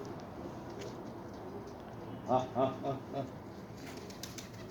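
A pigeon coos in a short run of four soft, throaty pulses over a steady background hum, fairly quiet and a little distant, in Saudi Arabia at night.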